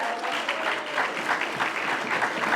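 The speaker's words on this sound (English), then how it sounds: "Let's have a big round of applause" Dense, lively audience applause at a retirement party, a continuous wash of many hands clapping close and fairly loud throughout.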